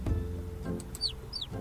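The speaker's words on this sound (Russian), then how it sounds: "Ну, хватит пищать" Chicks in the video game Pet Savers give a few high, thin peeps and short chirps in quick succession, close and clear, with no talk.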